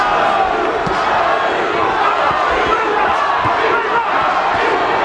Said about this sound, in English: The crowd trying to urge Tapia on with chants of Johnny